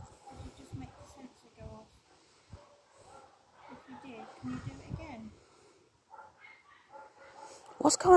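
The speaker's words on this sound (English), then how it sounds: "All I can hear is dogs." Dogs at a dog rescue yip, whine and bark intermittently in the background, some short sharp bursts and softer whimpers, while a person talks quietly nearby.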